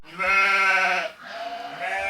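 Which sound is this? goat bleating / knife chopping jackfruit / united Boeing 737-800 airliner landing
goat bleating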